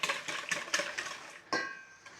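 Rehydrated powdered milk mixed with garlic powder being stirred in a bowl for a savoury Mediterranean vegetable and feta bread pudding, giving a run of close, quick scraping clinks and swishes with a louder stroke near the end.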